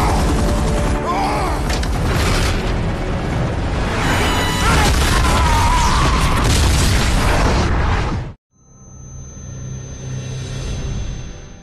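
A huge blast in an action film, loud and sustained, with roaring, crashing debris and rumbling for about eight seconds. It cuts off abruptly, and quieter low rumbling and a faint tone follow.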